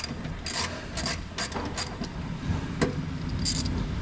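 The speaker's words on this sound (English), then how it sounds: "I'm loosening up the first bolt" A ratchet loosens the bolts holding the plastic undercover on a 2016 Fiat Abarth, giving close, repeated clicking bursts in an uneven rhythm with short pauses between strokes.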